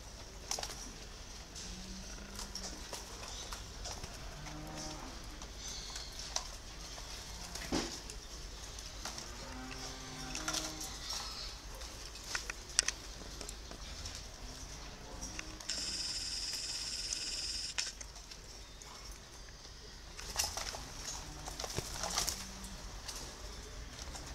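Spotted doves cooing, soft low repeated coos in short phrases from nearby birds, recurring through a quiet outdoor setting with scattered clicks and a brief high buzzing noise partway through.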